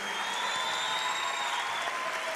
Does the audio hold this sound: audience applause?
yes